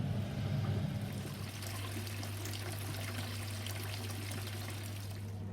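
Brewed 1837 Reid London Porter wort trickles and pours into a fermenter, a soft steady liquid stream with a low hum beneath, close and fairly quiet.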